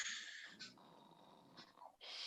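A person imitates snoring with a breathy, rasping inhale and wheezy, snorting exhales, repeated in a couple of close, fairly loud cycles.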